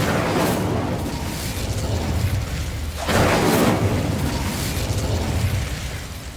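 An Incendio fire spell from Hogwarts Legacy erupts with a loud whooshing burst midway through, over a continuous rumbling roar of game ambience, with no talking.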